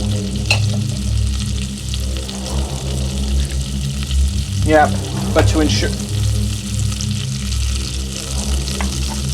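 Butter sizzles and crackles steadily in a hot pan, with a few brief words spoken over it.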